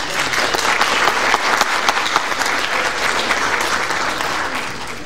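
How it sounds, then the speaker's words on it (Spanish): Audience applause fills a lecture hall at the opening of a master lecture on economics, a loud, dense crowd clapping that holds steady and tapers slightly at the end. "igual les agradezco su aplauso"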